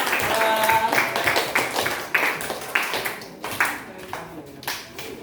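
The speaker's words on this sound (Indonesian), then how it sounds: "Tepuk tangan untuk kelompok Tantra" Classmates clap for a discussion group in a classroom, starting as a dense burst and then breaking into scattered, uneven claps that trail off, with voices underneath.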